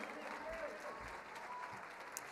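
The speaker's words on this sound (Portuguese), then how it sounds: "aplauda ao Senhor." A church congregation applauds during a worship gathering, a thick steady wash of clapping from many people, fairly faint and roomy, with faint sustained tones and a brief sharp tap near the end.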